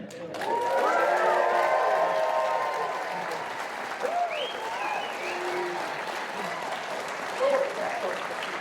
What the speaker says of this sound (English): we're going to just clap and cheer for just a second